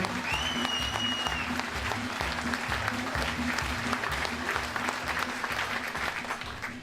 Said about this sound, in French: on peut bien l'applaudir